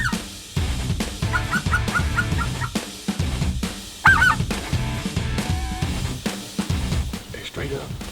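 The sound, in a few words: geese honking during a goose hunt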